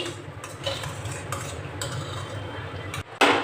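A spoon stirs biryani masala and spices around a hot pan on a gas flame for veg biryani, giving repeated scraping strokes over a low sizzle, ending in a sharp metallic clink.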